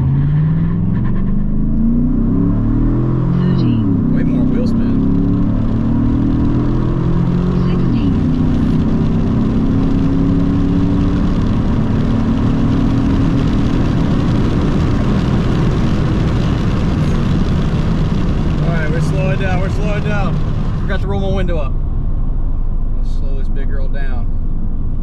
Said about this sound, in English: off the brake, give it gas, same as before